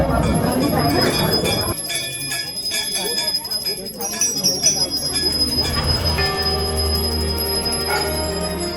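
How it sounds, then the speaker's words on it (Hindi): Many temple bells ring at Chitai Golu Devta temple in Almora, a dense, continuous metallic clanging and jingling close by, with people talking over the clatter. "ओ भाई, अभी तो एंटर ही किए और इतनी सारी घंटियाँ देखने को मिलती हैं।"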